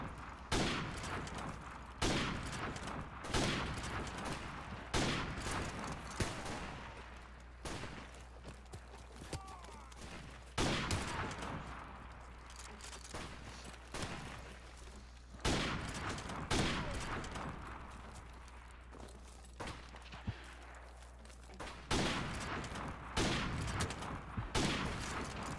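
Rapid bursts of gunfire from a first-person shooter video game crackle in repeated sharp volleys throughout, loud and close, with a player occasionally talking in between.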